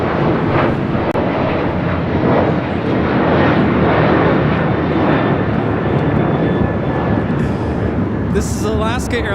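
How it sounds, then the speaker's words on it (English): An Alaska Airlines Boeing 737-800 jet takes off from LAX with a loud, sustained engine roar that swells and stays strong for the whole stretch, and faint voices sound near the end. "This is Alaska Airlines Flight 6 taking off to Washington Reagan National on a 737-800."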